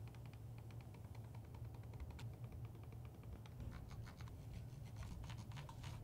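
A Logitech gaming mouse scroll wheel being clicked and rolled, giving faint rapid ticking and small clicks over a low steady hum.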